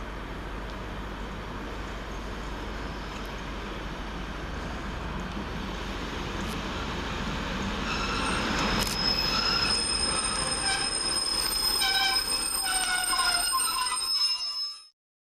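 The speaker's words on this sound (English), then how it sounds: "And here comes our train arriving in the form of 150 111 and 150 145" A pair of Northern Class 150 diesel units, 150 111 and 150 145, pull into Guide Bridge station with a rising rumble, then sharp high wheel squeals ring out steadily as the train slows before ending abruptly.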